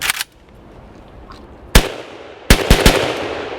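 Rifle fired rapidly with a bump stock for its final rounds: a loud opening burst, a lone sharp shot, then a fast cluster of four cracks with ringing decay, close and without talk.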